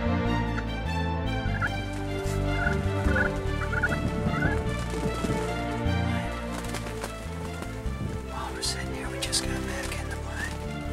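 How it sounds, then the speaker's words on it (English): A wild turkey gobbles several times during a hunt, with people talking throughout and some scuffing and movement. "heard gobbling up the hill, and couldn't quite see it yet"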